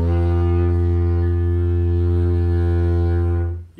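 A didgeridoo holds one steady, loud, low droning tone rich in buzzing overtones for several seconds before it cuts off.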